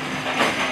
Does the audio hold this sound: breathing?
no